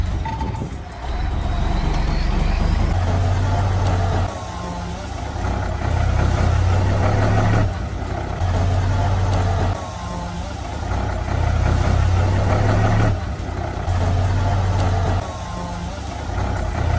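A heavy tractor engine idles low and steady in a eucalyptus forest, with a rumbling drone throughout and faint repeating beeps in pulses, plus some background voices.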